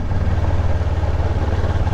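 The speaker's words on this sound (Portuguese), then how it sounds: "dar uma aceleradinha nela" A motorcycle engine runs close by with a steady low throb and slight clatter, holding an even rumble through a short stretch of a ride around São Paulo.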